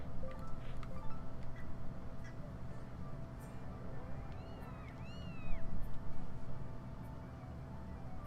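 Cat meows in the video game Zelda Skyward Sword: a few short, rising and falling mews near the middle, heard over a steady hum of game music and ambience.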